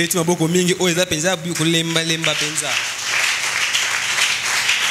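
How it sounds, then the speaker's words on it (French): A church congregation breaks into applause after a voice speaks or sings, the clapping swelling into a steady, broad wash that fills the last half. "Est-ce qu'on peut acclamer encore la parole?"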